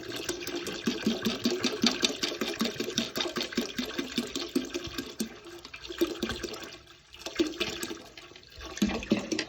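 Water gushing and splashing as it fills a home aquarium tank, a continuous turbulent rush with gurgling pulses that briefly dips then resumes, close and fairly loud with no talk.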